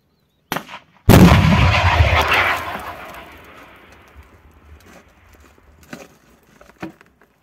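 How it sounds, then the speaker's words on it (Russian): Stugna anti-tank guided missile fired in a war setting: a short click, then a loud close launch blast that roars and slowly fades over several seconds, followed by faint scattered knocks and noise. "Выстрел!"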